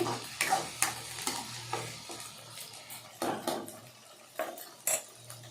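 Ginger-garlic masala sautéing for chicken curry in a pan, with a soft sizzle under repeated clinks and scrapes of a metal spoon stirring against the pot, close and irregular.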